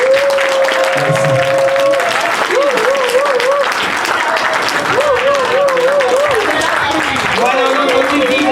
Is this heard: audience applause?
yes